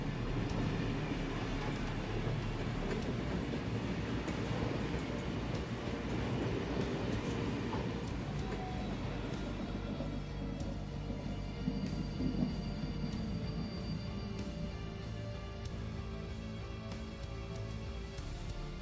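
Train arriving at the extraction point on the Reserve map in the Escape From Tarkov video game, a low rumbling rail roll with metallic screeches and clanks, gradually settling as it comes to a stop.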